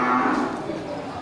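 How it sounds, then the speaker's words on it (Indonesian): A red-coated Simmental cow gives a single close, low moo at a livestock market, brief and clear with faint background noise. "ini sapi simental ya, bulu merah dibuka harga 25 juta"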